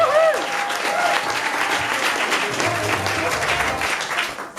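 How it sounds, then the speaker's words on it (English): A comedy-show audience breaks into loud, sustained clapping that fills the room, with a brief whistle near the start and the applause tapering off at the end. "start the clapping"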